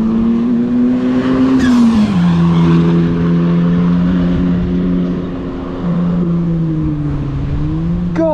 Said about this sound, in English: Oh, here comes an Atom. It makes a great sound on the way past.